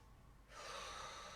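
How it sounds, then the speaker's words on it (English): A single steady inhale through the nose, soft and close, starting after a brief quiet moment and continuing as a smooth airy rush during a yoga breathing exercise. "Breathing in through the nose."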